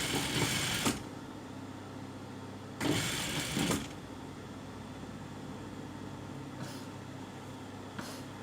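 A sewing machine stitches the leg seam of a jumpsuit in short bursts: a loud whirring run at the start, another longer run midway, and two brief faint taps later over a low background hum.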